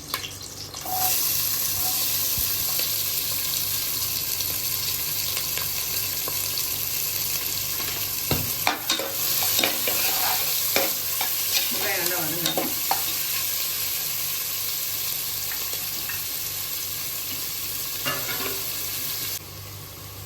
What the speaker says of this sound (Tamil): வெங்காயம் கொஞ்சம் வதங்கணும் வதங்கட்டும்